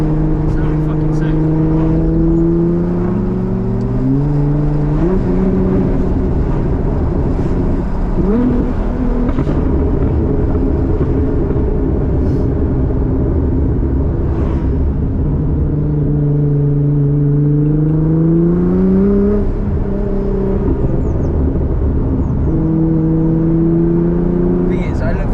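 Nissan GTR engine and exhaust with turbo, a loud steady rumble with rising and falling revs across repeated gear changes, close and continuous, with voices faintly mixed in.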